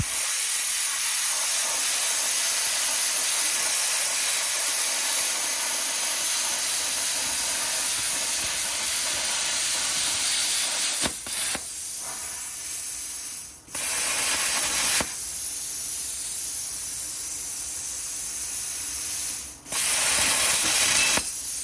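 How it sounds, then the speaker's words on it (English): Steady loud hiss of compressed air blowing through a Bestarc BTC500DP plasma cutter torch after a cut, continuous with brief dropouts and short surges near the end. "you can hear the air continue to blow afterwards"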